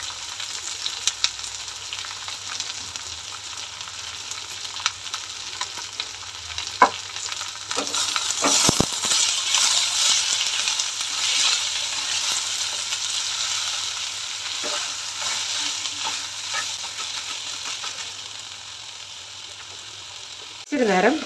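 Tomatoes sautéing with salt in a pan sizzle loudly and steadily up close, broken by repeated stirring scrapes and clinks.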